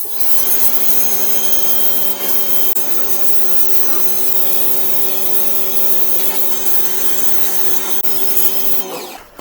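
A pressure washer converted into a sand blaster sprays wet sand in a steady, loud, continuous hiss with a constant motor whine underneath, running unbroken for several seconds before cutting off at the end.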